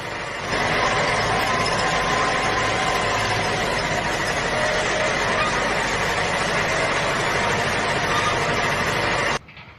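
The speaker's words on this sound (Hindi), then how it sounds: "फिर अगले दिन पिंकी चिड़िया खेत में ट्रैक्टर को लेकर आ जाती है और उसे पूरे खेत में चलाती है।" A tractor engine runs steadily in a farm field in a cartoon, with a continuous dense rumble throughout that cuts off abruptly near the end.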